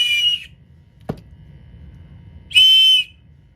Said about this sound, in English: 110 decibel whistle.